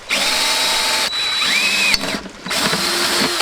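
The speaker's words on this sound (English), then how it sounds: "Drill my first hole there." A power drill whines loudly as it bites into a metal shower-glass channel, with a brief pause and a short second burst, close by.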